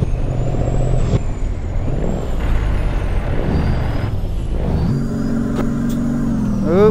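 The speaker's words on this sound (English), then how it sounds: "Oh, the Jake brake is still on." A Peterbilt 389 truck with its Jake brake engaged in American Truck Simulator, giving a loud, steady, low engine drone that chugs and shifts pitch, with a rising rev near the end.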